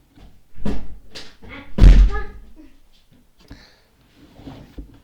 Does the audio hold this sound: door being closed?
yes